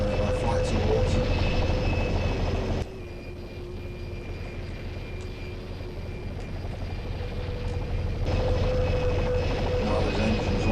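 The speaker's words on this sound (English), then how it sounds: "now his engine's on because he's been given fuel" Enemy helicopter engine in the Operation Flashpoint Airwolf mission game, a steady whirring drone that holds throughout, loud at first, dipping and then swelling back near the end.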